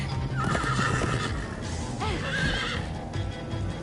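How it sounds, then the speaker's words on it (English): Horse in the game Minecraft: Story Mode neighing in repeated whinnies over quick galloping hoofbeats, clear and close against a soft background bed. "Slow down, horse!"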